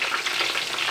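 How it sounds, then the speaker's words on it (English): Pork carnitas frying toward crispness give a steady, dense hiss of bubbling fat, close and even for a moment, with no talk. "I'm going to fry these until that pork is crispy on the outside."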